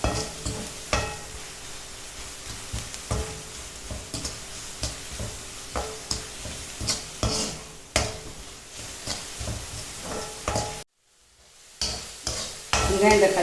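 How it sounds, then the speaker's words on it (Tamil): Tomatoes and onions sauté with salt in a pan for palak paneer, with repeated scraping stirs over a constant sizzle, a brief drop to near silence, then the frying resumes. "நல்லா வதங்கட்டும் தக்காளி வெங்காயம்லாம்."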